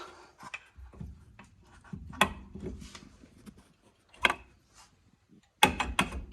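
Metal brake caliper being worked over the pads on a Ford Falcon XR6, giving scattered clicks, knocks and scraping taps at close range with quiet gaps between, and no talking.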